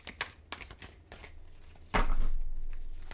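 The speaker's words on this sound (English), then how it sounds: "These cards are so big, so they're so hard to shuffle." Large tarot cards are shuffled close by, giving a series of soft irregular riffling flicks and slaps that end in one longer riffle.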